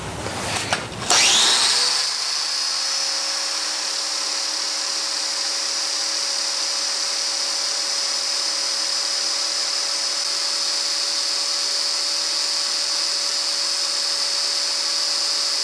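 A spinning sharpening tool grinds a tungsten TIG-welding electrode to a point: a brief scrape at the start, then a steady, loud high-pitched whine that holds evenly for the rest of the clip, with no talk.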